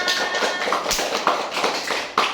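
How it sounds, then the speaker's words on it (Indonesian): Classroom clapping at the end of a teaching session, a steady patter of many hands nearby, fairly loud and continuous with no talk over it. "Tepuk tangan buat kita semua."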